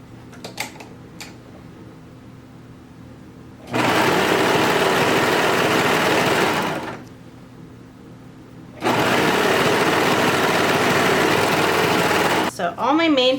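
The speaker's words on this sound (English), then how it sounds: "I'm going to fold it right sides together and just sew these two edges together." A sewing machine stitches the folded edges of a fabric belt in two loud, sustained bursts of rapid needle chatter, separated by a pause with a faint background hum.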